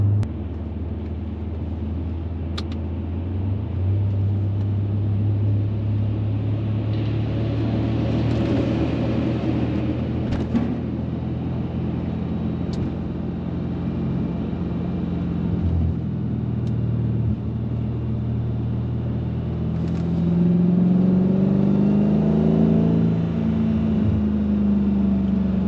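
Mercedes CLK55 AMG with the supercharged M113K V8 driving, a steady low engine drone heard from inside with rising and falling pitch through several automatic gear shifts, the revs building near the end.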